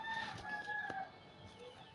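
Captured pigeons give a few short, soft coos and clucks at close range, with faint rustling between the calls.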